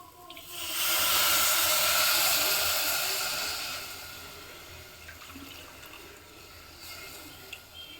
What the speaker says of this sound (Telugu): పులుసు పోస్తున్నానండి